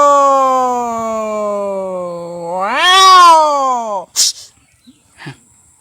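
A voice imitates two cats meeting: one long, loud, sliding meow that rises and swells to a peak before breaking off, followed by a few short, quieter answering mews.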